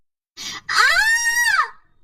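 A woman named Anu screams in terror in a horror tale: a brief sharp cry, then a long, loud, high-pitched shriek that swells and fades, with no other sound around it.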